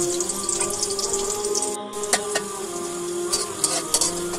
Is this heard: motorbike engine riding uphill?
no